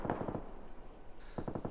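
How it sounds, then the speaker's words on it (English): Automatic gunfire in the battle royale game PUBG comes as two rapid bursts of close, sharp shots, with a quieter gap between them. "There's a lot of gunfire"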